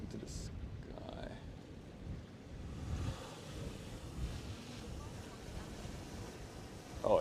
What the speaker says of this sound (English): Oh, it's quite windy actually.